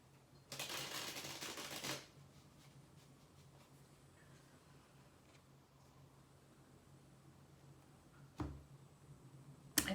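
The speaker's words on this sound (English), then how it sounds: "I do one more shuffle." A deck of tarot cards gets a single quick riffle shuffle near the start, followed by quiet handling and a faint tap or two, with no talking.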